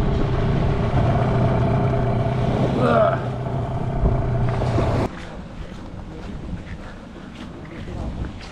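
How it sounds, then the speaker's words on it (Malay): An inflatable fishing boat's engine drones steadily with a low, even hum for about five seconds amid wind and water noise, then cuts out, leaving only softer wind and splashing. "Enjin."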